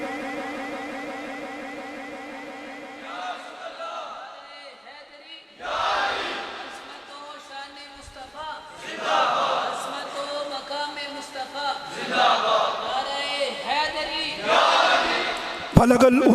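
Crowd at a religious gathering roaring a chanted response to the Naara-e-Takbeer slogan, swelling in several loud collective bursts that rise and fall over the span.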